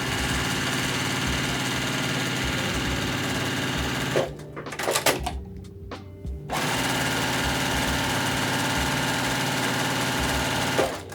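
Sewing machine stitching lines across half square triangle fabric pieces, a loud steady mechanical whir up close that stops for about two seconds with a few soft handling clicks, then resumes and runs continuously again.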